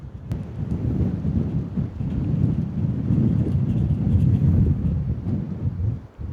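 Strong wind roars steadily across the microphone on Udo Island, Jeju, a heavy, continuous low rumble with gusty swells and no voices.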